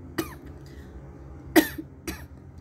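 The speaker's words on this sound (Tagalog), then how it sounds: "Yung ubo ko pabalik-balik." Three dry coughs from one person with a recurring cough at close range, a sharp one near the start, the loudest in the middle and a softer one just after, spaced by quiet room tone.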